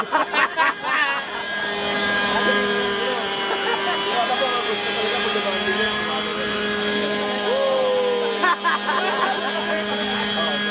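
An Agusta helicopter comes in to land with its wheels still retracted, a loud, steady close rotor and turbine whine with a sliding tone, while people talk excitedly over it.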